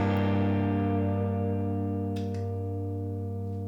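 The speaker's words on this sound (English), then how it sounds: "Freeze pedal. It literally freezes the sound" A guitar chord held indefinitely by a freeze pedal drones steadily, thick and sustained without decay, with a couple of faint clicks partway through.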